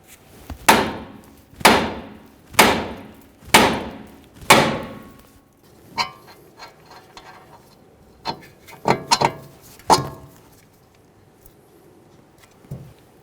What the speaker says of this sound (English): I'll just use my hammer here, being careful not to damage the tie rod end in any way.